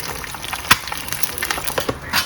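Eggs frying in a pan in a home kitchen, a steady crackling sizzle broken by sharp pops and spits, fairly close with no talking.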